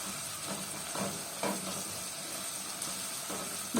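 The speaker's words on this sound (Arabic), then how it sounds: "نديله تشويحه كده على البصله" Chopped onion and garlic sauté in a hot pan for a stuffed potato tray dish, giving a soft steady sizzle with occasional stirring scrapes close by, with no talk.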